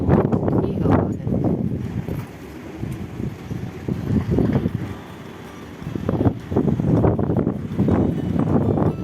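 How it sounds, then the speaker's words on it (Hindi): Fierce dust-storm wind at night rushes and booms in repeated strong gusts, loud and close, with a short lull near the middle before the blasts return. "कितनी हवा है"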